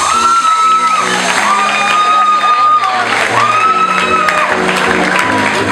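An audience at the Miss Fashion 2016 semi-final applauds and cheers a finalist, with loud steady clapping and whoops under sustained tonal music.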